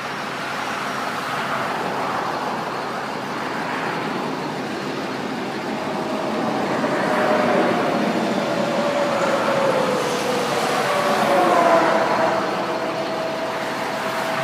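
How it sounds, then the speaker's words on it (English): Heavy road traffic passing close by, a steady loud roar of tires and engines that swells and surges as vehicles rush past, with no clear speech. "That's so much traffic."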